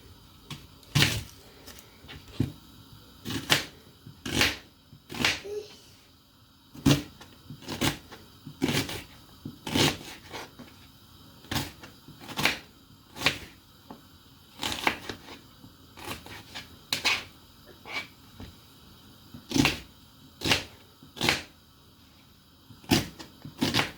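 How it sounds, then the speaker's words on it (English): A knife chops an onion on a cutting board: sharp, evenly spaced knocks repeat steadily throughout at close range. "I'm just gonna cut the onion."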